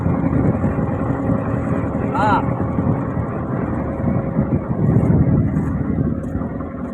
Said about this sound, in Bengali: সেই ঘাট থেকে বোট ছেড়ে দিয়েছি, আমরা এখন যাচ্ছি একদম ঘোরার জন্যে